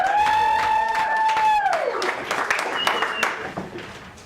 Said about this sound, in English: Give me a round of applause for Jimmy.